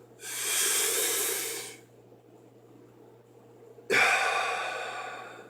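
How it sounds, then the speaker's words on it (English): A trumpet player takes two full, deep breaths, each a long, close airy inhale separated by a short pause in a quiet room. "Here's a full breath."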